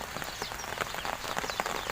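Steady rain pours down outdoors at a roadside spot where fish and crab traps are being checked, a dense continuous patter with scattered sharper drops, moderately loud and with no voices.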